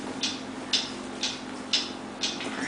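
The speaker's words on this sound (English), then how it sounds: "What is that mysterious ticking noise?" Five evenly spaced ticks about half a second apart sound over a faint steady hum, crisp and fairly close, like a clock keeping a slow regular beat.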